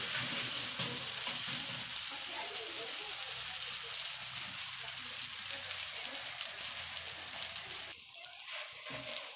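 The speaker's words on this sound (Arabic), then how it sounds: "صافي كنبدا نقلب فيها حتى كطيب." Msemen, a layered Moroccan flatbread, fries in a pan with a steady, close, bright sizzle that thins out near the end, with no one speaking.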